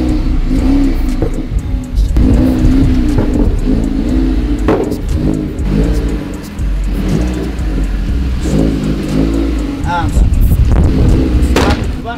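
An Audi TT engine inches into a house garage, idling low with repeated short revs that rise and fall as it maneuvers close by.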